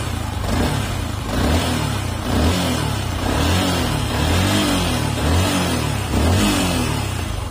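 A Yamaha R15 V2 sport motorcycle engine, around 2016, revs repeatedly, rising and falling in a steady cycle of throttle blips, close and fairly loud.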